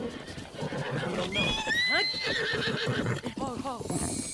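A horse whinnies in rising and falling squeals amid Breath of the Wild game sounds and a talking voice, the neigh repeating loudly over a few seconds.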